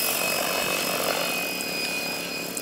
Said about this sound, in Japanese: ヘリ飛ばしてる脇で会話はできるでこれ。